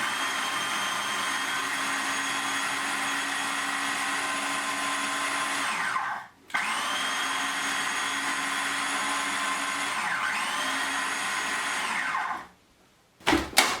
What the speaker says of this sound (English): So pop the lid back on and mix it one more time just to mix that butter all the way through.